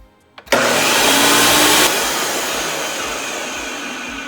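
A blender mixing a Meyer lemon maple sorbet mixture starts after a couple of small clicks, roaring loudly at full speed, then settling to a slightly lower steady whir that runs on to the end.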